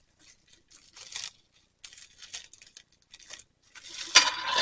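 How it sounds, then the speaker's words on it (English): Plastic wrap pulled off a roll and laid flat on a desk: several short crinkly, tearing bursts separated by pauses, ending in a louder rustling rip, close and alone with no talk. "we're going to put a piece of plastic wrap down"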